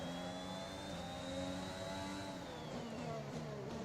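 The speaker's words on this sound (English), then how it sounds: "Some other cars in the pits and coming out of them now." Formula 1 race cars in F1 2021 pull out of the pit lane, a steady high-pitched engine whine that climbs then falls away, with a sustained mid-range engine drone beneath and no talk.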